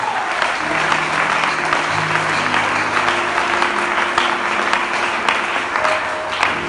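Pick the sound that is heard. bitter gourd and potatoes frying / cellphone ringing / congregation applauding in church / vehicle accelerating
congregation applauding in church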